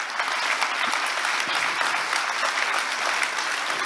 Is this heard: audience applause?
yes